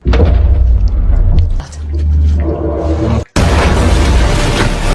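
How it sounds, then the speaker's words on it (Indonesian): Loud booming blasts and heavy thuds, then a sudden cut into a roaring wall of noise like a violent explosion, as gunfire tears through an aircraft roof. "tiba-tiba terdengar tembakan yang menghancurkan atap pesawat"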